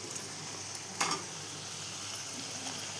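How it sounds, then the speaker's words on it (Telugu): Chopped tomatoes drop into a hot frying pan for a potato and capsicum curry, giving a brief burst of sizzle around one second that settles into a steady, close frying hiss. "కట్ చేసిన టమాటీ వేద్దాం"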